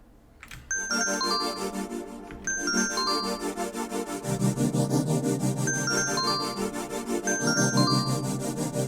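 Bright bell chimes ring in a repeating pattern over a looping electronic beat with a low, pulsing bass line.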